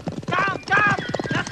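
Horse hooves clopping with a whinny, in a historical radio-drama scene about the Jagiellonian court where a queen is thrown from her horse; busy, continuous sound with voices talking over it.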